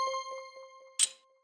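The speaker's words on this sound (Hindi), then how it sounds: "चाचा चौधरी के घर पर घंटी बजती है।" A single bright chime rings out and fades over about a second, followed by a short metallic clang. It fits a doorbell at a house in an animated comic story.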